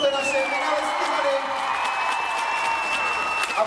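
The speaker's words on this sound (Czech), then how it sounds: "Tak já prosím trošku potlesku, podpořte naše finalistiky." Audience at a junior cheerleading backflip challenge in a hall applauding and cheering for finalists, a steady wash of clapping and shouts with a whistle-like tone on top, loud and continuous.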